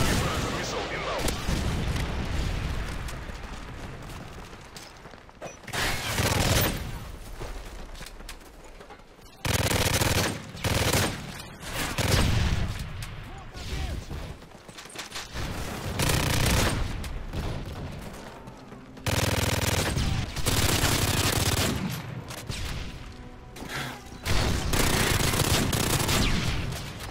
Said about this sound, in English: Predator missile ready for launch. Predator missile inbound.